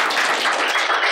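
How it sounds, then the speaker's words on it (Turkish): Studio applause closes a quiz show, a brief, dense burst of clapping that stays steady and fairly loud with no talk over it. "Bir alkışla bugün programı kapatalım."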